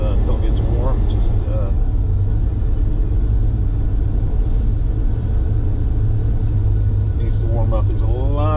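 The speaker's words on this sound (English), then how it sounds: "This is a flat 12-cylinder, so see, it's still cold." A cold 1987 Ferrari Testarossa flat-12 idles loudly up close with a deep, steady, slightly uneven rumble, while someone talks over it at the start and end.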